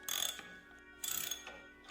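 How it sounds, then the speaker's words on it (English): A ratchet tightens bolts on an accelerator bracket with two quick bursts of close, crisp clicking, separated by a short pause and followed by a fainter click at the end. "Now I better tighten these bolts."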